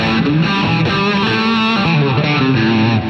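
An electric guitar played through an Eventide Riptide pedal set for heavy distortion and a touch of tape echo rings out loud and saturated, with sustained chords and shifting bent notes.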